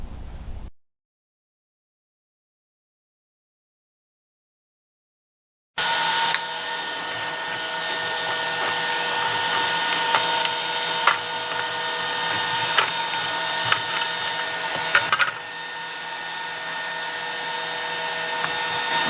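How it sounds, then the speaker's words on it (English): Laser cutter cutting a Christmas ornament from wood at 300 millimeters a minute and full power: after several seconds of silence, a steady loud whirring hum with faint ticking starts and runs on unbroken. "downloaded some free laser cutting files. This is a Christmas ornament."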